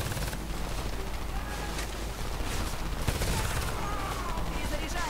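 Sustained gunfire from the Homefront video game: dense, overlapping shots and bursts fill the whole stretch at steady loudness, with faint voices underneath.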